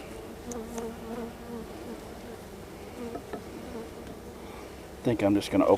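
A mass of honeybees hums inside an opened hive during a June inspection, a low, steady buzz close by, with a brief louder burst of wingbeats near the end.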